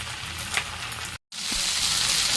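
Okra fries uncovered in a wok, giving an even, steady sizzle with light crackles, broken by a short silent gap midway before the hiss resumes.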